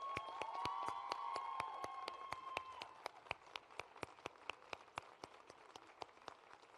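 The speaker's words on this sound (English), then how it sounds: "Please join me again in applauding Kenyatta Harkey for her patriotism and willingness to serve" Applause at a school commencement ceremony for a graduate, at first a soft crowd wash with a held tone, then thinning to sharp, evenly spaced single claps that repeat steadily to the end.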